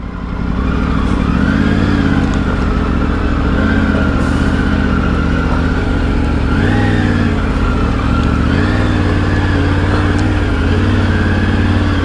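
A Kawasaki KLX 230 and a Triumph Tiger 900 pull away on an offroad rally stage, loud close engines revving in repeated rising and falling surges with a continuous throaty drone.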